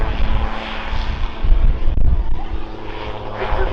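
A propeller aircraft flies aerobatics at an airshow, its engine droning and surging loudly overhead with shifting pitch and wind buffeting, someone talking briefly beneath it.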